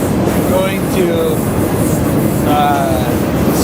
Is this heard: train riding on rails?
yes